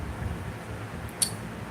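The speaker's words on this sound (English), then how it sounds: "if you hear my fan in the background" A computer fan runs steadily in the background, a faint low broadband hum with no talking, broken by one brief higher click.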